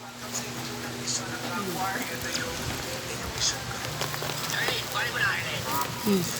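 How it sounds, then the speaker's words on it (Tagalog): Steady rain falls on a surface outdoors, a dense continuous patter with scattered drops and splashes throughout, with brief bird-like chirps and faint background voices mixed in. "kasi umuulan"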